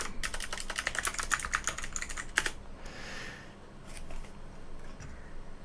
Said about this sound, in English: So I'm going to type I know Japanese.